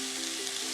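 Ackee frying in a pan with mushrooms, a continuous close, loud sizzle with a faint steady hum beneath and no talking.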